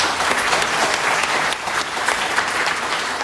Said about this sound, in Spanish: ¿Por qué no les damos un aplauso